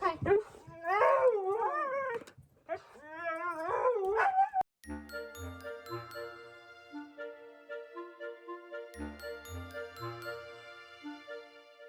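Several excited dogs howling and yowling together before going out for a walk in snowy weather, long rising and falling wails, then a bright jingling tinkle ringing out in repeated bursts.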